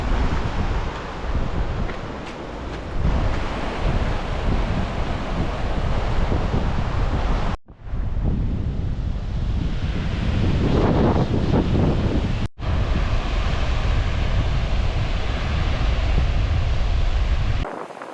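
Sea waves washing over a rocky shore at Alibaug, a loud steady roar of surf mixed with wind buffeting the microphone, interrupted by two brief dropouts.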